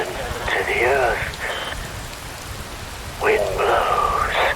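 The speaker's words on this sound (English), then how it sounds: "Wind blows, rain falls" Steady hiss of rain falling in the video game Metal Gear Rising: Revengeance, a broad wash of noise running throughout, with a voice speaking over it in two bursts.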